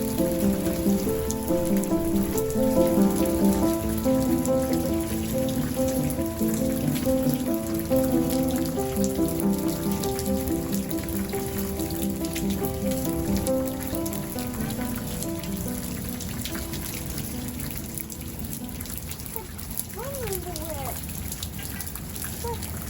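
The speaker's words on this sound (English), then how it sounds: "we just watched it rain" Steady rain patters on a surface for a long stretch, with a dense musical layer playing underneath that fades toward the end.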